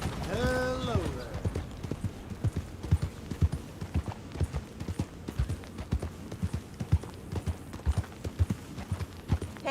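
Horse hooves clip-clop at a steady walking rhythm in the video game Red Dead Redemption 2, close and distinct, opening with a brief horse whinny and carrying on alone without talk.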